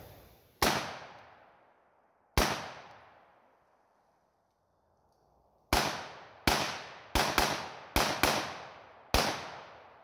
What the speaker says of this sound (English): So 30 rounds in pretty rapid succession.